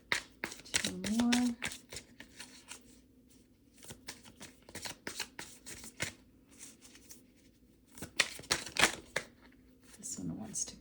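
Tarot cards being shuffled by hand in bursts of quick riffling, close and crisp, with soft pauses between bursts and a voice speaking briefly in between.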